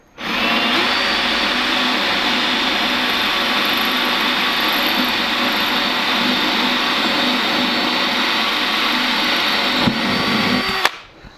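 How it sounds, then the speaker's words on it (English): A drill without hammer function bores into brick, a loud close continuous high-pitched whine and grinding that runs steadily for about ten seconds, then stops abruptly. "So I'm going to go ahead and drill it on this side."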